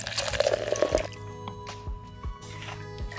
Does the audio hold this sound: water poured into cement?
yes